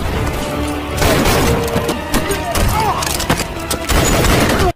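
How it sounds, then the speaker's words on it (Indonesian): Gunfire in a zombie action movie shootout as a character opens fire on agents, a dense loud burst of overlapping shots and crashes with a busy soundtrack and voices mixed in. "segera menembak para agen di samping Alice"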